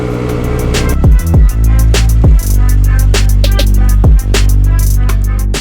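Toyota Supra engine on a cold start, loud and close, with repeated throttle blips that rise and then fall back toward a high idle, several revs in quick succession.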